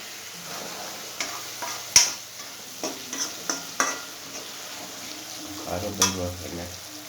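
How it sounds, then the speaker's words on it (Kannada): Gojju masala frying in oil in a pan, sizzling steadily while a spoon stirs and scrapes it in several clicking strokes, close and moderately loud, with no one talking. "ಸ್ವಲ್ಪ ಖಾರ ಹಾಕಿದ್ಮೇಲೆ ಚೆನ್ನಾಗಿ ಹುರಿಗೆ ಎಣ್ಣೆಲೆ ಫ್ರೈ ಮಾಡೋದ್ರಿಂದ ಸ್ಮೆಲ್ ಚೆನ್ನಾಗಿ ಬರುತ್ತೆ"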